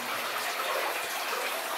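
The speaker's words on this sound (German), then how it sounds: "Und hier plätschert." Water trickling and splashing inside an abandoned tunnel, a steady close babble of running water that stays unbroken, with no voices.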